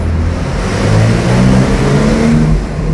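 Porsche 911 Turbo S Cabriolet (992) accelerating in Sport Plus mode, a steady mid-pitched engine note rising through the revs for about three seconds, close and fairly loud with no talk.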